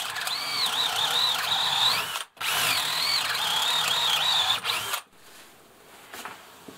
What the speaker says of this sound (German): hier jetzt unser kleinster Akkuschrauber